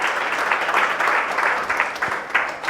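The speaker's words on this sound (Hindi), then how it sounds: "आइए जोरदार ताली बजा के उस खुदावंद यीशु मसीह का धन्यवाद करें।" A church congregation claps loudly and steadily in a continuous burst of applause.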